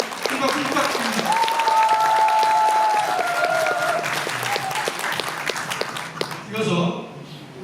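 A large crowd at a Democratic Party delegates' convention in Pocheon, South Korea applauds loudly and steadily, the clapping sustained throughout with a voice speaking over it and a whistle-like tone rising partway through.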